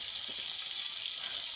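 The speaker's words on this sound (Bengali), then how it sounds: "তারপর এই মাছটাকে সুন্দরভাবে ভেজে নেবে" Hilsa fish frying in hot oil, a dense, even hiss of sizzling held close and steady for the whole moment, with no talking.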